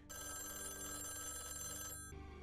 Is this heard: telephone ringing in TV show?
yes